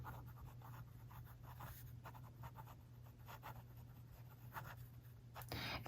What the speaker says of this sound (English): For reverse writing